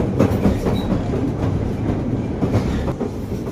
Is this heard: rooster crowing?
no